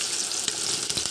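Onions and green chillies fry in hot oil, a steady close sizzle broken by a few sharper scrapes and clicks of stirring.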